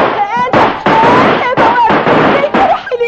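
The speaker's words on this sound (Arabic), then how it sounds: "ابعدي يا سميره احسن رصاص الكلب ده يجي فيكي" Gunshots in an Egyptian radio drama, a rapid series of loud sharp bangs close together that nearly fill the short stretch, with a harsh crackling texture.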